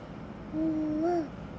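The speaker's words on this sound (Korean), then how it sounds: "부엉이." An owl hoot plays from a children's sound book: one electronic, tonal hoot that rises slightly at its end, lasting under a second and fairly clear above a quiet room hum.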